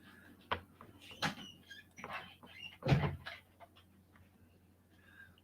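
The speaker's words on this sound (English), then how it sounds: "Hey, shut the door." A door swings shut in a home with a thud-like bang around the middle, set among scattered household knocks and light background noise.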